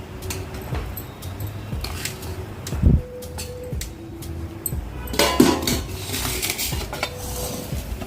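Metal clatter of a lid set onto a pan of moringa leaf egg bhurji with coriander, a couple of sharp clanks and utensil clinks over a faint sizzle, close by, no voices.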